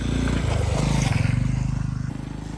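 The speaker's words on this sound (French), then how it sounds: "il y a une moto qui arrive" A small scooter ridden by a young boy passes close by on a road at night, its buzzing two-stroke-style engine note holding steady and shifting pitch as it goes by, loud and near throughout.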